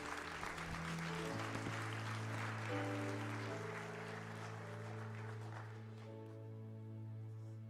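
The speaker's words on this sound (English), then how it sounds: "Let's give a round of applause, please, for Mr. Wayne Peterkin." An audience at an eighth-grade graduation at The Academy Charter School in Hempstead claps steadily for several seconds, a dense wash of applause with sustained tones running underneath.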